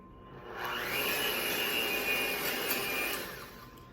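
A steady electric whirr of a blender or hand mixer whisking two eggs for an apple cake, starting up after half a second, running loud and close at an even pitch, then easing off at the end.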